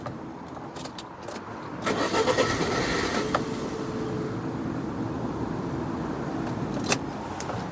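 A Rover K-series car engine with a starting fault cranks on a jump pack and fires into a steady, close idle after a couple of seconds of turning over, with a few light clicks and a short sharp knock near the end.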